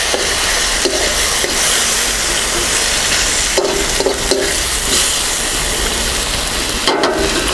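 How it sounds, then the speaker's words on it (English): Curry base gravy hits a hot pan for chicken balti and sizzles loudly and steadily close by, with a broad hiss and a few brief scraping stirs. "I'm now going to put in about a chef's ladle full of our curry based gravy"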